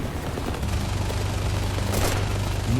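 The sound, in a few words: plane machine gun fire in a video game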